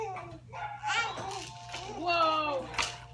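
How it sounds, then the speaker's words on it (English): A small dog barks and yips near the microphone while children talk over it. "Who's barking?"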